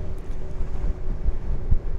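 Steady wind buffeting a microphone on the Avalon Peninsula, a low rumbling roar with gusty bumps throughout, no voices.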